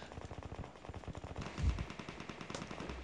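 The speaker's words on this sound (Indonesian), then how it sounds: "ada tembakan dari belakang" Rapid bursts of automatic gunfire crackle from behind the player in the mobile shooter game PUBG Mobile, a fast rhythmic stream of shots with a heavier thump midway, moderately distant.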